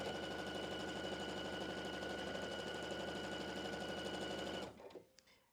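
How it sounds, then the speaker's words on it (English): Sewing machine running a long continuous seam joining quilt block fabric pieces, a fast, even mechanical whir that stops abruptly near the end, followed by a few faint clicks. "Sewing that outer piece to the second piece."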